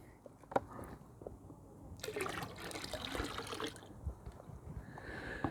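Pond parasite treatment mixed in water is poured into a koi pond, giving a soft splashing, trickling pour of about two seconds amid quiet outdoor background noise.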